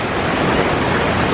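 A river in Echo Valley, Sagada, Philippines rushes steadily beneath a small bridge, a dense, loud, unbroken roar of flowing water.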